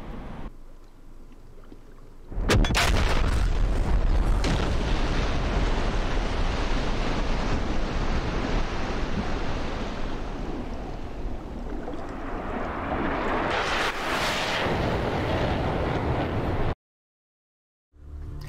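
Su-25T rockets fired and bursting in the DCS World flight game, a sudden loud roaring blast that leaves a long dense rumble, swelling again before cutting to silence, with no talking.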